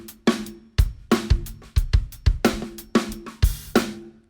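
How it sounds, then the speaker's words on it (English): A drum kit plays alone in a crisp, close groove, with sixteenth-note doubles on bass drum and snare giving uneven, funky clusters of sharp hits over a few bars. "Some we're going to start putting 16th notes in the bass and snare"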